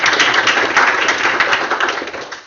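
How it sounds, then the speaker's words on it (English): An audience gives a round of applause to a speaker at a tech talk, with loud, dense clapping from many hands that holds steady and then begins to thin out at the end. "Please give a round of applause for us."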